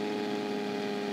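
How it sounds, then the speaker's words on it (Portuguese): Scania LK V8 truck engine brake in a truck-driving video game, a steady low droning rumble with layered harmonic hum, continuous and fairly loud for the whole moment with no talk. "Ó o freio motor."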